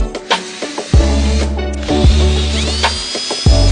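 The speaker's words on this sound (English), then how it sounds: "And countersink." Power drill with a countersink bit boring into plywood sheets, a few close, loud grinding bursts separated by short stops, no voices.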